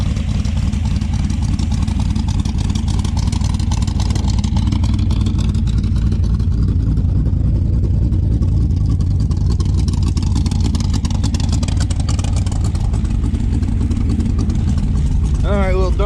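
A Dodge Dart's carbureted engine with electronic ignition revs hard and loud, a continuous roaring drone that holds steady for the whole stretch, close by.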